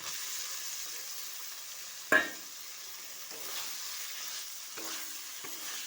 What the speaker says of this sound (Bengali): আবার একটু নাড়াচাড়া করে নেব।